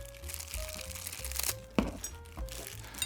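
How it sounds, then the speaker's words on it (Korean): Plastic wrap being peeled off individual forks and knives of a black flatware set, close crinkling and crackling in irregular bursts with one sharp crack partway through. "하나하나씩 빼놓고 비닐도 좀 제거를 해야 되겠죠"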